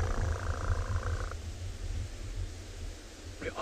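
A human voice imitates cheetah cubs purring like a domestic cat, a low rhythmic rumbling purr heard close up for about a second and a half, then quieter breathy noise.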